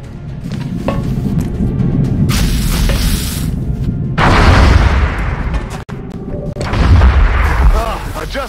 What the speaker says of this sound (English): Incoming fire at this position.